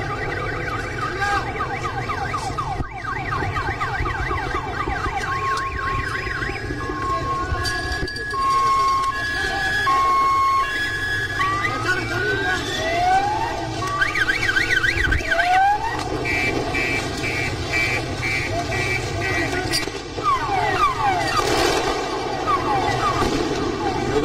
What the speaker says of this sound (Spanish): De fondo podemos observar que viene la policía en moto y también en las patrullas policiales de la zona